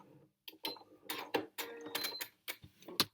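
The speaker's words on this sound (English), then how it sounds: "let's just stitch over them again with still the zigzag" A sewing machine stitches a zigzag over couched cord for a chain-of-hearts design, giving short mechanical bursts of needle clatter separated by brief pauses.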